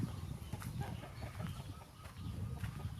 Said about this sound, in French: Tout spécialement, ces coqs de combat.